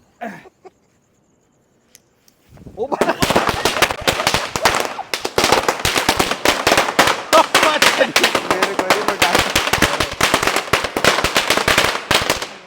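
A couple of faint pops, then a long rapid string of loud firecracker bangs crackling in quick succession, close by and sharp, during Diwali in Jhang, Pakistan.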